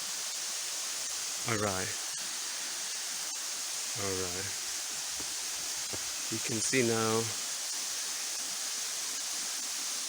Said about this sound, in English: I think from here now you can see a good view of this waterfall